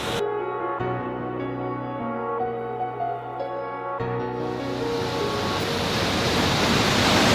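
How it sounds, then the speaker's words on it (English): Waterfall in the Cascades National Forest, a steady broadband rush of falling water that swells louder toward the end, heard alone over a background of faint tonal hum. "That waterfall is way too amazing looking."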